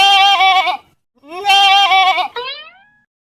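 A goat bleats loudly and close by in two long, wavering calls separated by a short pause, the second one trailing off into a thinner, fading tail.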